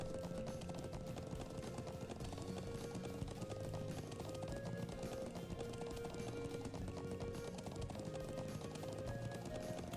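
Horse hooves gallop in a steady, rapid clip-clop rhythm in the Trails of Cold Steel video game, continuing without a break under faint game music.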